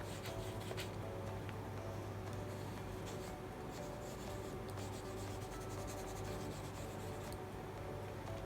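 A Lamy All-Star fountain pen inking a portrait sketch on paper, making continuous close, quiet scratching and rubbing strokes over low room noise.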